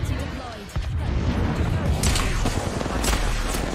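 Gunfire in a video game, a few sharp shots scattered through a dense, noisy mix of game sounds and effects, with a voice talking over it.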